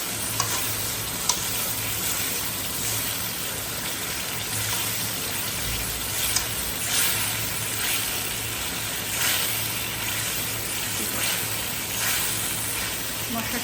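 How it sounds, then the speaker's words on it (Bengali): Spices with dried chili powder fry in a pan, a steady close sizzle with occasional stirring scrapes running continuously throughout. "ভালো করে একটু ভেজে নিয়ে যাতে মশলার ফ্লেভারটা না থাকে"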